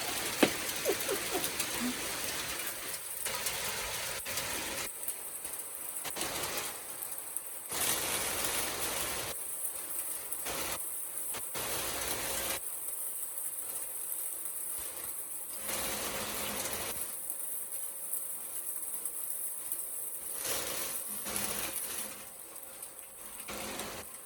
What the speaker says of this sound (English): I had sparks flying at my face and hail falling down my back